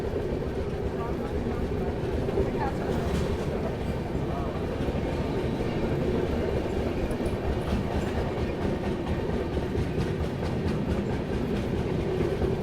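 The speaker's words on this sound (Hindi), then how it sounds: "मेन लाइन की गाड़ियों का अराइवल डिपार्चर भी हो रहा है।" Trains rumbling on the main line at a busy station, with steady heavy rolling noise and wheel clatter throughout, alongside shunting traffic and a voice talking over it.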